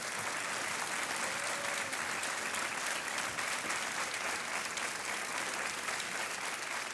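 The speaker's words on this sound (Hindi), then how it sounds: "तालियां बजती रहनी चाहिए देवी और सज्जनों।" Steady, dense applause from a large studio audience on the quiz show Kaun Banega Crorepati fills the whole stretch, unbroken and fairly loud, with no voices over it.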